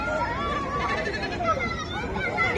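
Several short, wavering bleats from local breed goats at a busy Eid livestock market, heard close over steady crowd babble and people talking.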